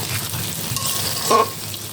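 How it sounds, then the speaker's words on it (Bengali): Beef brain coated in spices sizzles softly in a pan while being gently stirred, a steady close frying hiss with a brief louder scrape near the end. "দেখুন আমি এমনভাবে নাড়ছি মগজে সুন্দরভাবে মশলাগুলো করে মেখে গেছে।"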